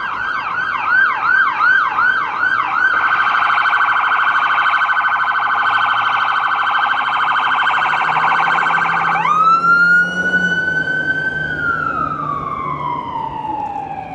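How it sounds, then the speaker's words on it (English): An emergency vehicle siren passes along a downtown street in Billings, Montana: a loud, close wail that cycles rapidly, then holds a steady tone before sweeping downward in pitch as it moves off, with no talking. "Got an emergency vehicle coming through."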